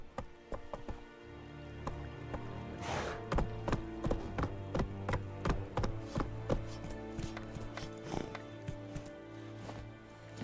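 Hooves of Roach, Geralt's horse in The Witcher 3, clopping in a steady rhythmic series of moderately loud knocks over a quiet game background.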